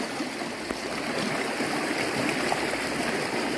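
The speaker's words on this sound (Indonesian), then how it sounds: "air sungainya mengalir dengan deras" Fast-flowing village river rushing beneath a suspension bridge near rice fields, a steady broadband roar of water that stays close and continuous throughout, with no voices.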